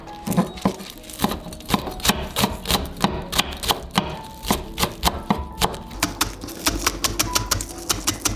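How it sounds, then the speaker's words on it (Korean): A knife minces green onions on a cutting board in quick, even chops, a steady run of sharp close taps repeating about twice a second without pause. "쪽파는 두 뿌리 정도 다져줄게요"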